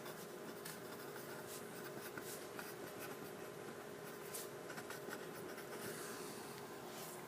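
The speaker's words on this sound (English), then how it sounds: "So let's write all this stuff down." Pen or pencil scratching steadily across paper while notes are written for a one-point perspective interior drawing, a continuous close scribbling with small strokes and no talk.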